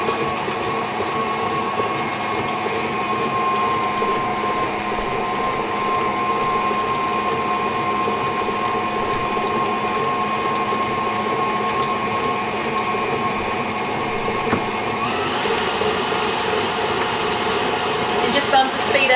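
Electric mixer beating strawberry cake batter gives a steady, close motor drone with a slight shift in pitch near the end as the speed rises.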